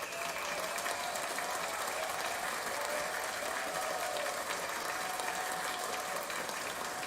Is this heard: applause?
yes